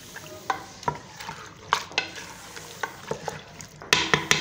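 Mutton karahi with spices and water being stirred in a pan, giving repeated scraping clacks of a utensil against metal at an uneven rhythm over a soft bubbling sizzle, close and fairly quiet.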